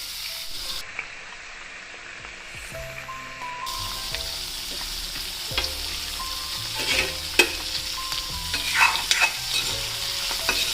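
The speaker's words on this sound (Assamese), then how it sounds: "প্ৰথমতে বিনখিনি ভাজি লওঁ, তাৰপিছত আলুখিনি দিম।" Beans sizzle steadily in a hot wok while a utensil scrapes and stirs them, with occasional sharper clinks against the metal.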